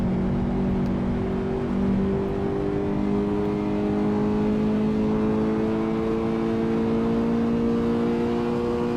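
A Subaru BRZ engine in a racing video game on the Nürburgring, held at steady high revs flat out, with a loud sustained drone of stacked harmonic tones and no talk over it.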